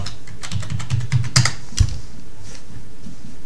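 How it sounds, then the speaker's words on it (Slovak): A password is typed on a computer keyboard, a quick run of close, crisp key clicks with a few firmer taps before it falls quiet. "prihlásim sa pomocou svojho hesla"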